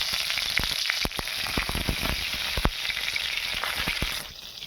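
Green chilies fry in hot oil in a pan for a tomato and mango okra dish, a loud continuous sizzle broken by sharp crackles and pops, with no talking.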